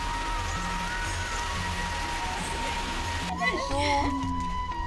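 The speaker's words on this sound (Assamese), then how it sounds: "পুৰা বৰষুণ দি আছে" Steady rain hisses across the whole stretch, with a faint tonal hum in the background and a brief voice rising near the end.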